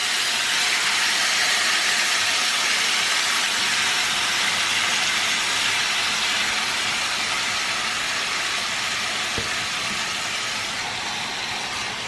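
Skinless chicken chops sizzle in hot vegetable oil in a home kitchen pan, a steady loud broadband frying hiss running unbroken from start to finish with no talk.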